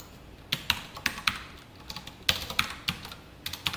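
Code typed on a computer keyboard, close and clear, with irregular bursts of crisp key clicks and short pauses between groups of strokes, no talking.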